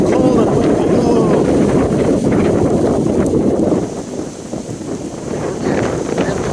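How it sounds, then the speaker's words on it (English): Strong wind gusts of up to 35 mph roar outdoors in Boca Raton, Florida, near palm trees as a cold front and storm move in; the blustery rumble batters the microphone loudly and steadily, easing slightly midway before rising again. "The winds are 35 mile per hour gusts right here in Boca Raton, Florida."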